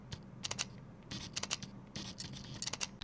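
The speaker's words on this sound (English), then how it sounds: "Now let's hear the mechanical shutter of X-T5." A Fujifilm X-T5 camera's mechanical shutter fires several times in quick clusters of sharp double clicks, close and fairly quiet against a low room hum.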